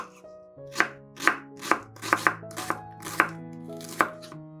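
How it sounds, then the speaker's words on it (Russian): A knife dices an onion on a board in a quick, slightly uneven rhythm, about ten crisp strikes close up, with gentle music playing beneath. "Одну луковицу нарезаем маленькими кубиками."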